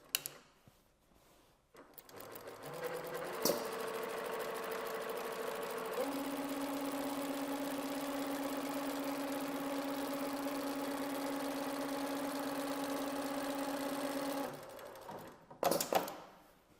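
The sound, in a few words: sewing machine stitching trouser waistband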